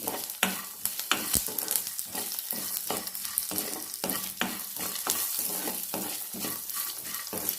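Curry leaves and long-slit green chillies sizzle and crackle steadily in hot oil for lemon rice, with occasional stirring scrapes, loud and close with no talking.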